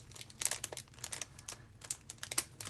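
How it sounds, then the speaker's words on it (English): Foil gem embellishments crinkle and crackle in their plastic package as it is pulled open, a close, quiet run of sharp rustles and small tearing sounds with no talking. "If I can get them out of the package."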